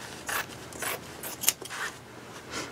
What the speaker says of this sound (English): And I'm going to cut down the middle.